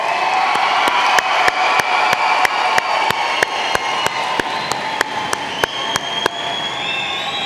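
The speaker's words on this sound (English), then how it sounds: "How about a big round of applause for our graduates?" Audience at a 2021 high school graduation ceremony applauds the graduates, a broad steady wash of crowd clapping and cheering that holds throughout, with regular sharp clicks punctuating it at a steady beat.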